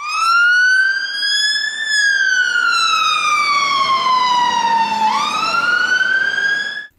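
An electronic siren wails loudly and steadily, its pitch slowly falling then rising again, with a tinny, toy-like tone and no talking.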